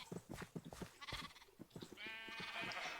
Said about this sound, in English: They're a flock of sheep that hasn't been dyed yet